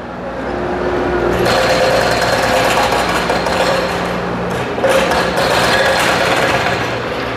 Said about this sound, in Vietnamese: nghe tiếng ồn từ xa luôn, đang sửa chữa bên đó, sửa chữa phải đào lên